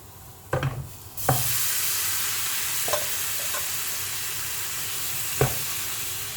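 Soya hits a hot pan and bursts into a loud, steady sizzle, with a few scraping stirs of a utensil against the pan.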